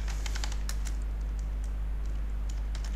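Computer keyboard keys tapped in quick, irregular bursts while working in SQL Server, the clicks close and crisp over a steady low electrical hum, with no voices.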